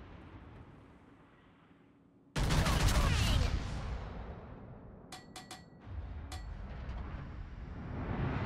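Battleship gunfire from a Tier 10 USS Montana in World of Warships: a sudden, massive broadside roar that slowly rumbles away, with a few sharp cracks and a steady low engine-like drone afterward.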